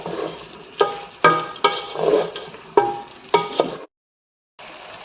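Soaked chickpea dal fried with vegetables and spices in a pan: a soft sizzle with repeated sharp spatula scrapes and knocks against the pan, close by, ending abruptly in a brief silence.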